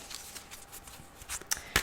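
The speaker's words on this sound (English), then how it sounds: "So I'll just start to shuffle for you, Aquarius, for your story for the upcoming near future" A John Holland tarot card deck is shuffled close up, giving soft, faint riffling and sliding card sounds with a few sharper flicks toward the end, alone without talk.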